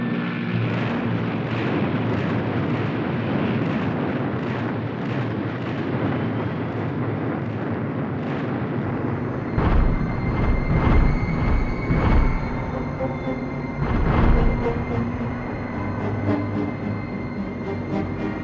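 Allied bombers pounding German coastal positions during the D-Day landings: a continuous heavy rumble of aircraft and explosions, with louder blasts bursting out near the end.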